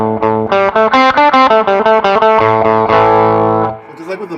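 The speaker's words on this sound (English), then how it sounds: "Now I'm going to turn on the Naga Viper here. It's set to the range master setting still with the boost at noon." Electric guitar played through a Naga Viper treble booster on the Rangemaster setting with boost at noon, into a Fender Princeton amp: a run of loud, bright, slightly thin distorted notes in a steady rhythm, ending on a held ringing chord that cuts off.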